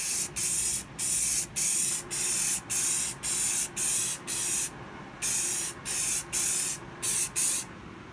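Spray paint applied in short repeated bursts as a light coat goes onto a small shed-style stereo cabinet, about a dozen loud hissing sprays separated by brief pauses, close and without talk.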